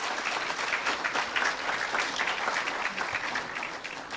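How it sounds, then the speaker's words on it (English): Steady applause from a crowd at a school graduation ceremony, a dense wash of many hands clapping at even loudness throughout, with no voices standing out. "this graduating batch deserves applause for their contribution towards"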